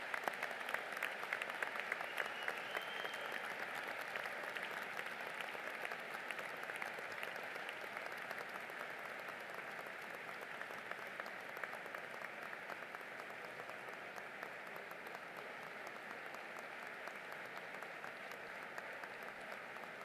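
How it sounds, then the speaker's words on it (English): Graduating class of 2011 at a university commencement rising to applaud their parents and supporters: a large crowd's sustained, dense applause, loud and steady throughout with no talk over it. "I invite the class of 2011 to stand, turn and applaud your parents, grandparents, and everyone else who supported you in your education"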